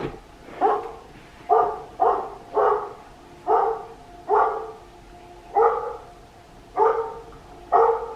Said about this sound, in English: my dog started barking loudly